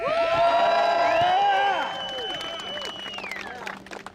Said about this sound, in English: Who have been to New York? A round of applause.